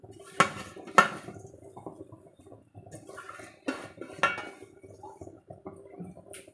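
Chopped fenugreek leaves are mixed into tomato puree in a pan for dhaba-style methi malai matar. A spoon knocks and scrapes against the pan in a few sharp clinks, with softer stirring in between and no talk.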